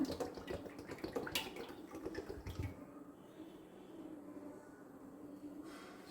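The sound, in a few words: pouring coconut oil into a pan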